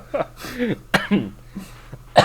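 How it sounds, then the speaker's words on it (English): Several short, harsh bursts of coughing and throat clearing, spaced unevenly, close to the listener with a quiet hum behind. "now I'm coughing"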